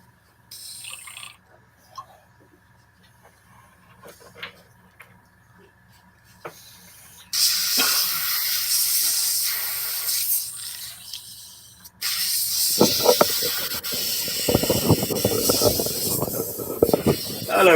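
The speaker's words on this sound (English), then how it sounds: "I must have had a blockage in the airbrush." An airbrush spraying freely once a blockage is cleared, heard as bursts of loud hissing air that cut in and out against a quiet room, with faint small handling noises between the sprays.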